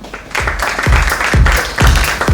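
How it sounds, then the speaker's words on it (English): Applause from an audience honoring Shalini Jatia at a pharma event on pediatric oncology, heard as a dense wash of clapping with a steady rhythmic beat of low thumps running through it, loud and continuous for the whole stretch. "please join us in a warm round of applause for Shalini Jatia ma'am"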